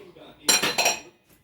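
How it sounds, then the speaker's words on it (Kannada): A metal kadai set onto a stove in a home kitchen, a couple of brief close clanks of metal on metal within a second or so. "ಇವಾಗ ಬಾಣಲಿ ಕಡಾಯಿ ಇಟ್ಟಿದ್ದೀನಿ."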